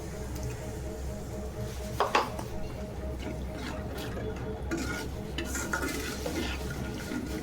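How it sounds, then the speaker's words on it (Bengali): Shrimp and taro stolon curry with salt, turmeric and chili powder being stirred in a pan, a steady soft scraping and faint sizzle with a louder clatter of the utensil near the middle. "লবণ, হলুদের গুঁড়া, মরিচের গুঁড়া একটু ভালো করে নেড়ে নিব।"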